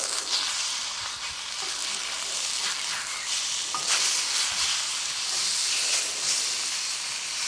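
A haddock fillet sizzles in hot oil on a shovel over a fire, a steady loud crackling hiss that continues throughout with small pops.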